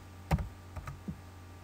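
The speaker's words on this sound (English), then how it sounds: "or you can just type it in, which we're just going to type this in as" A few quiet keystrokes on a computer keyboard as a date is entered into a form field, three soft clicks spaced irregularly across a second or so with no voice.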